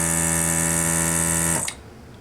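A desoldering tool's vacuum pump hums steadily and loudly while sucking solder from an Atari 5200 controller circuit board, then cuts off abruptly, leaving only faint room noise.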